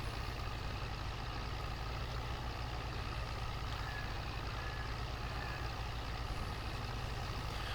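Zetor tractor engine running in Farming Simulator 22, a dense, even diesel rumble with a fast pulsing throb underneath, steady and close from start to end without speech.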